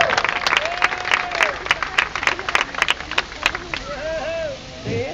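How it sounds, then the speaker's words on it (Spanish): An audience gives loud, sustained clapping for children after their karate kata demonstration, with crowd noise and a few voices mixed in, then the applause thins near the end. "Fuerte aplauso"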